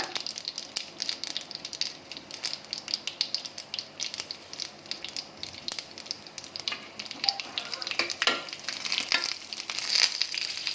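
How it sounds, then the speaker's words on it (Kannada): Stuffed green chillies frying in hot oil in a pan with curry leaves, a steady crackling sizzle with sharper spits and pops building toward the end. "ಇವಾಗ ತುಂಬ್ಕೊಂಡಿದ್ವಲ್ಲ ಮೆಣಸಿನ್ಕಾಯಿನ ಅದನ್ನ ಇವಾಗ ಎಣ್ಣೆಯಲ್ಲೇ ಹಾಕೋಣ"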